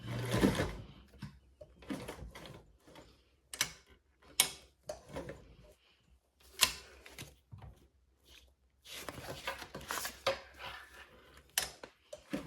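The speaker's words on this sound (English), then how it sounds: "Gonna baste it." Sewing machine making basting stitches on a quilt-along project, heard as short, faint bursts of stitching and ticking mechanical clicks with pauses between, no voices.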